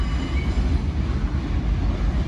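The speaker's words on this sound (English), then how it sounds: "We're just gonna need to let this train do its thing" A train passing in the Bronx, New York City, a loud, continuous low rumble and roar of rolling cars, close by and steady, with no voices over it.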